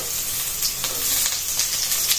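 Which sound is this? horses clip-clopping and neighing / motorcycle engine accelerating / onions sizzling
onions sizzling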